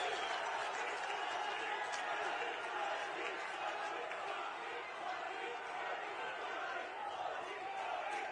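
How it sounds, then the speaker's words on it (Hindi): A big crowd applauds Prime Minister Modi at a public event in Uttarakhand, a dense, steady roar of clapping that holds loud and unbroken throughout. "एक बार जोरदार तालियां माननीय प्रधानमंत्री श्री मोदी जी"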